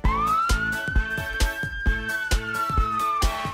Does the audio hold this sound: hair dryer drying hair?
no